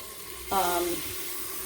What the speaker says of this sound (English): I just add more water to my pot of hot water over here just to keep it full